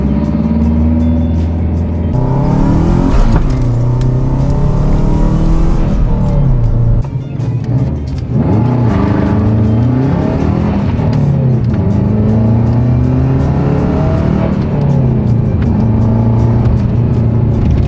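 A car accelerating hard with a fat, loud exhaust leak, its engine note climbing and falling through repeated revs, close and continuous throughout.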